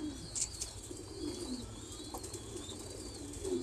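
Pigeons at a pigeon farm cooing softly and repeatedly, with a few higher chirps and faint background bird calls, no voices.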